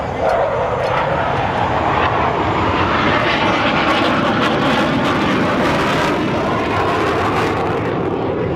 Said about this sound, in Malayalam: ഇന്ത്യയുടെ അഭിമാനമായ തേജസ് ആണ് ഇപ്പോൾ ആകാശത്ത് ഈ കാണുന്നത്